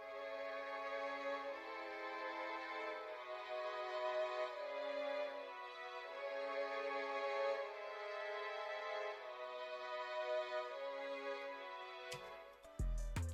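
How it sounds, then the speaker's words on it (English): Sustained vintage string ensemble from a Kontakt sample library plays slow chord changes copied from a piano part, smooth and full, running steadily alone before cutting off abruptly near the end. "Again, another instrument that we added just to widen up the sound, just to thicken the sample a little bit, was this vintage string from Contact."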